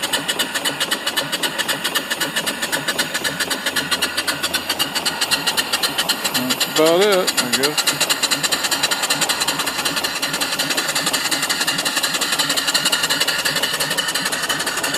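A live steam mill engine with flyball governor runs fed from a small boiler, giving a rapid, steady mechanical chuffing and clatter close by, with a brief voice and a short rising whine midway.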